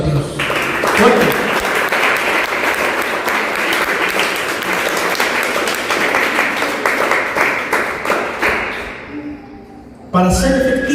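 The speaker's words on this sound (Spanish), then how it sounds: "Vamos a dar un fuerte aplauso a Dios." A church congregation gives strong applause during a sermon, a full steady roar of clapping that fades gradually before a speaking voice cuts in near the end.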